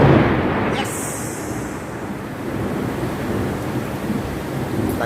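Heavy rain during a desert thunderstorm, heard from a second-floor room as a dense, continuous wash of noise, with a faint distant rumble and a few brief sharp crackles.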